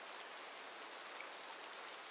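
Steady rain falling, a dense even hiss of drops that holds without a break, soft and moderately distant, with no voices over it.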